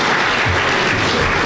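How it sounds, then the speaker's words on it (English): Applause from the audience at a philanthropic family historical special night, steady dense clapping filling the room for a short burst with no voices on top. "Give him a round of applause."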